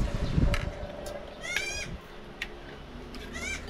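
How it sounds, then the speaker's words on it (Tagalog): Goats bleating in the Philippines, several thin wavering cries rising over a busy, noisy background of wind or road rumble, moderately near. "Kawawa mga kambing ah."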